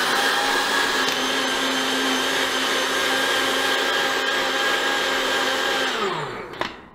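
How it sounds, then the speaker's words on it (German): A kitchen blender mixes a tuna protein shake with a loud, steady motor whir that holds evenly, then winds down and stops near the end. "Natürlich in meinen Mixer."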